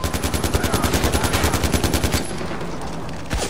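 A mounted turret machine gun in the video game Far Cry 4 fires a loud, steady string of rapid shots for about two seconds, then stops, leaving a rumbling background and a single brief thump.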